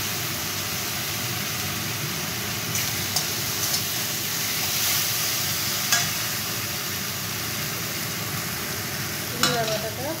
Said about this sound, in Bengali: জিরা বাটাটা, হলুদ দিয়ে সামান্য কষিয়ে নেব